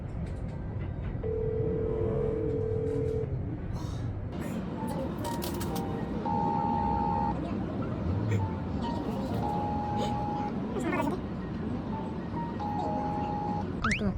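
A phone call rings out with a repeated ringback tone, sounding as short steady beeps at regular intervals while people talk over it nervously.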